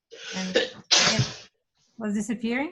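One loud, abrupt sneeze right after a short spoken question, with more talking after a brief pause.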